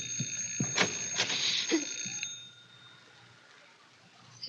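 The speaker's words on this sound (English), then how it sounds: "Because the doorbell is ringing." An old-time radio drama doorbell effect rings in a few bright, repeated electric bursts, loud and close, then stops and leaves near silence.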